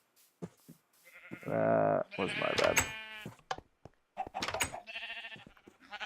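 A Minecraft sheep bleats a few times on a survival server, short wavering cries interleaved with someone speaking briefly and game sounds, close and moderately loud.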